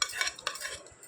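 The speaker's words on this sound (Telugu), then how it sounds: "ఇవ్వండి పోపు కూడా వేసేసుకుంటున్నాను" A spoon stirs a tempering of fried spices into a cucumber pickle, giving a few close, brief scraping and mixing strokes with no talk.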